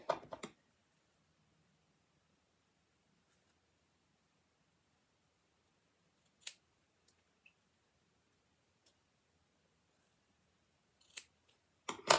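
Scissors snip a Barbie doll's hair in a quiet room, with a few short sharp cuts at the start and near the end and sparse faint clicks between them.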